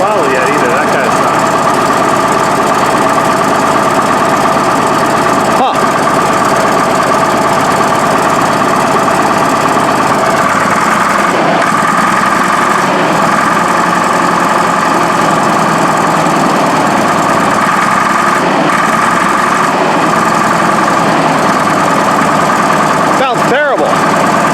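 A Case 1150 crawler's diesel engine with two broken injectors runs rough, not yet at full throttle. A loud, uneven, knocking idle continues throughout, with voices talking over it.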